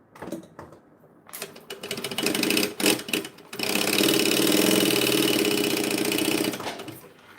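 A sewing machine stitching seams: short bursts of rapid mechanical needle chatter at first, then a longer continuous run of fast, even stitching, close and fairly loud, with no talking.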